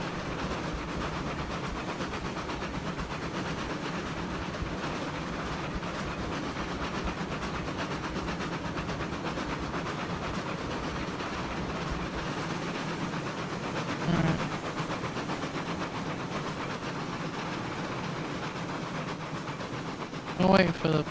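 A long train rolls steadily through the video game Railroads Online, a continuous dense rumbling hiss with faint rhythmic clatter, holding an even level throughout with a brief bump near the end.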